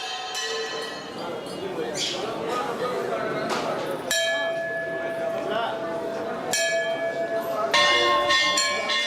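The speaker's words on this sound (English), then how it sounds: "Bells announce a worshiper's presence at temple, block out other sounds, and focus the mind on meditation." Temple bells ring repeatedly at a Hindu temple in Varanasi, India, bright metallic strikes layering into a continuous clangor, with fresh louder peals breaking in every few seconds over a busy crowd murmur.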